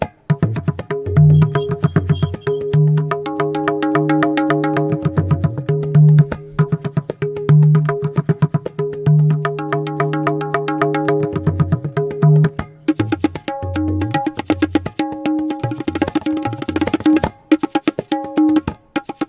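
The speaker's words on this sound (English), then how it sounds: "So this is the sound of the nagada, which is played with the sticks." Nagada drum struck with sticks in a loud, sustained rhythmic pattern of repeated strikes, dense and continuous with no talking.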